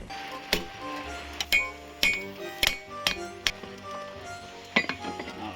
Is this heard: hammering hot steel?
yes